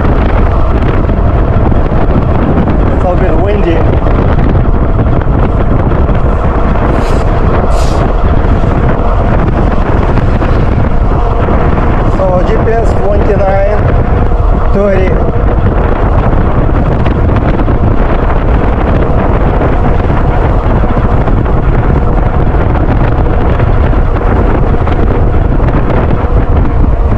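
Loud, constant wind buffets the microphone in a heavy rushing roar while riding a Super73 Rival e-bike with a Goat Power motor, with faint mechanical noises underneath.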